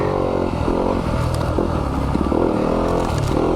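A 2020 Yamaha YZ250FX dirt bike engine held in third gear, loud and close, a steady buzzing drone with slight rises and dips in revs plus some clattering from the ride.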